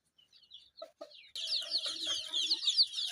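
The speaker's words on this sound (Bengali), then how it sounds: "এখানে বেশ কিছু বাহামা মুরগি এবং দেশি মুরগির বাচ্চা একসাথে রয়েছে" Bahama and local (deshi) chicken chicks together on a farm, a few scattered peeps giving way to a dense, continuous chorus of high chirping and clucking nearby.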